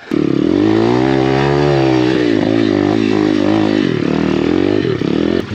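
A cheap Apollo RFZ Enduro pit bike engine revs loud and close, its pitch climbing and sagging in quick waves with some clatter underneath.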